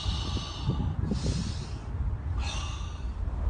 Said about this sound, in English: I get up and I take two breaths.